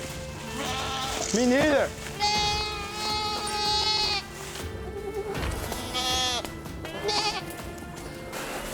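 Goats on an off-grid homestead bleat repeatedly, several wavering cries up close, while people talk and move around them.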